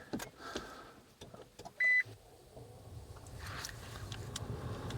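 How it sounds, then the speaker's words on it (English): Toyota Auris starting via key fob held over the power button: clicks and a short electronic beep, then a quiet hybrid system hum rising steadily in the cabin. "to be able to start the car, you need to hold the key fob over this power button."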